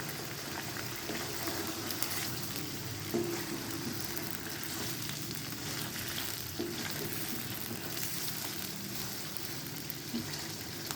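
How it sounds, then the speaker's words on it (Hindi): Chicken karahi fries on a full flame in a pan, a steady soft sizzle and bubbling of liquid cooking down, continuous and fairly quiet, with no talking. "पानी खुश्क होने तक हम इसको फुल फ्लेम पे पकाएंगे"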